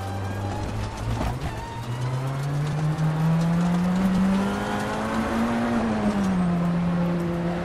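Tatuus F4 open-wheel race car in rFactor 2, its engine droning steadily and rising then falling in pitch through a turn, loud and continuous with no talk.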